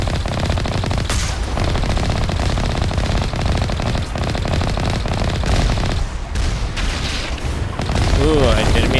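Gunfire hammers the player's tank in a video game: constant rapid machine-gun bursts and booms run throughout, loud and continuous, with a short synthetic warbling tone near the end.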